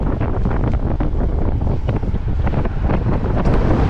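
Headwind roaring across the microphone while gravel cycling on Île de Ré, a loud, constant rushing buffet with gusty swells and no talk.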